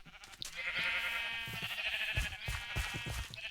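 Sheep bleat repeatedly from a sheep farm in Minecraft, several overlapping wavering cries, fairly close and clear, with brief gaps and a few short knocks between them.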